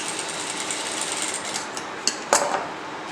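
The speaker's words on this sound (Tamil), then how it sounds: "மேலேருந்து கீழே ஒரே ஒரு ஸ்ட்ரெயிட் தையல் போட்டு இதை ஃபினிஷ் பண்ணிடலாம்." A sewing machine runs a straight seam on a blouse with a steady, fairly loud whirring hum, broken by a couple of sharp clicks near the end.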